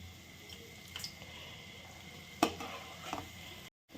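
Potato and spinach fritters crackle in hot oil over a high gas flame, a steady low sizzle with a few sharper pops and stirring touches, then a brief cut to silence near the end.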